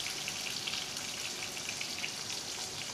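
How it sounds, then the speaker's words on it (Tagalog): Dried fish (daing) fries in a pan in a simple home breakfast setting, giving a steady, even crackling sizzle with scattered pops, close and continuous throughout. "sasalang na natin yung daing"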